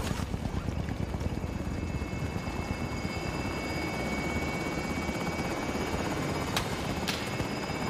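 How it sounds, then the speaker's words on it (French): A helicopter in the Call of Duty Warzone video game gives off a loud, steady rotor drone that holds unbroken for the whole stretch, with no voices over it. "Ils ont appelé l'hélico, du coup, on va pouvoir s'en servir."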